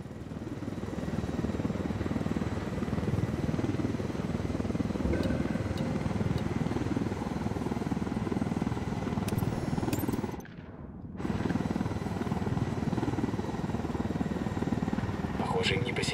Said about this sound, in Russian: где-то летает еще один вертолет